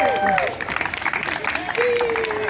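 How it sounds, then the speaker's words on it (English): Audience applause at a lakeside beach gathering honoring a longtime local figure, steady, moderately loud clapping with voices and a whistle-like tone riding over it. "Give a round of applause."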